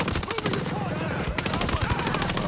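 Enemy LMG machine gun fire in Ghost Recon Breakpoint, a fast rattling stream of shots close and loud, briefly pausing then resuming, with speech under the battle noise.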